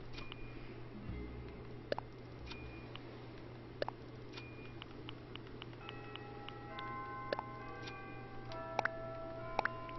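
A clock chime bell from Animal Crossing New Horizons: soft, sparse bell-like ticks and tones sound over a steady low background hum, with brief brighter strikes scattered through the stretch and no talking.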